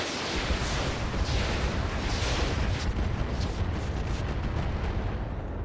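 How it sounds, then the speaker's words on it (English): MRM-30 missiles fire in the RogueTech mech game, a dense rumbling barrage of launches and bursts that rolls on loudly and continuously, with several sharper cracks toward the end. "we're just going to fire our MRM-30 this time and sink a little heat."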